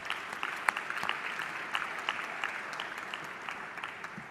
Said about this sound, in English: So I want us to give them a round of applause.